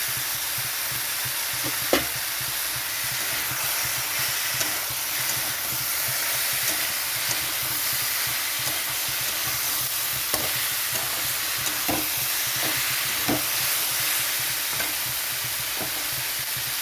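Bitter gourd frying and being stirred in a pan for a mustard and cashew paste shukto, a steady close sizzle with occasional scraping clicks from the spatula and no talking.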